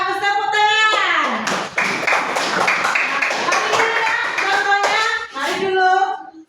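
A classroom group claps together after a student group presentation, a busy burst of hand claps mixed with children's and a teacher's voices, settling before rising again near the end.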